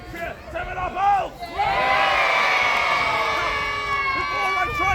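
Crowd cheering and children shouting at an outdoor entertainment show at Kenilworth Castle, a performer's voice first, then a loud burst of whoops and cheers that swells and holds, with a few voices rising above it.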